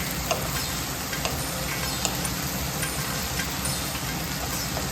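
Poha with cashews and sesame seeds sizzles steadily in a hot pan while being stirred, a dense continuous frying hiss with faint scraping ticks throughout.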